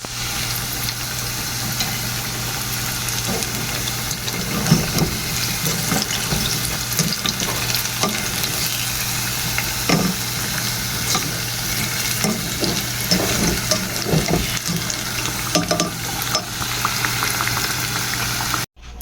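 Banana cue frying in a pan of oil, a steady, loud, bubbling sizzle that carries on evenly and close throughout with occasional small pops, no voices.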